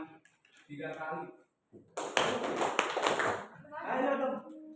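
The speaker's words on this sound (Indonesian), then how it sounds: "Tepuk tangan 3 kali." A classroom of students claps hands together in a short burst of sharp, overlapping claps, loud and close, with a teacher talking before and after.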